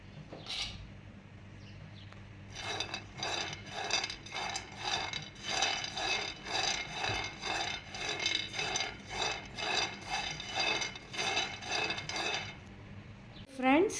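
Peanuts dry-roasted in a hot pan, stirred with a steady, rhythmic scraping rattle of nuts shuffling against metal, about a dozen even strokes, fairly close, after a brief clatter at the start.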